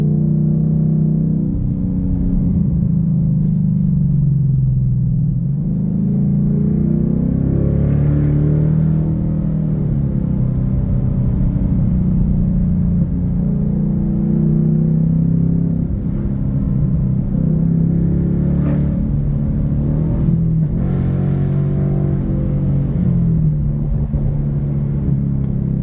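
A 2024 Ford Mustang GT S650 with an aftermarket exhaust cruises along back roads, its engine giving a deep, steady, close rumble with mild revving swells throughout.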